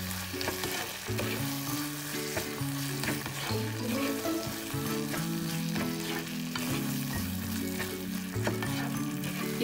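Carrot laddu mixture with sugar being stirred in a pan, soft sizzling and frying with a spoon scraping the pan, faint and steady under background music.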